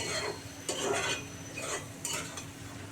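Pangas catfish and jackfruit curry being stirred in a pan, a spoon scraping and turning the thick mixture in several broad strokes with a faint sizzle underneath, fairly quiet and close.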